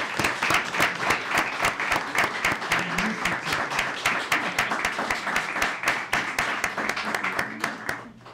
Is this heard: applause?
yes